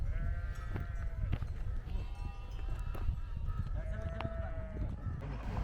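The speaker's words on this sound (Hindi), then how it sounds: "बकरियाँ भेड़ें यहाँ चर रही होती हैं" Several grazing sheep and goats bleat on and off at a moderate distance over a rumbling, noisy outdoor background in the Sharan mountains.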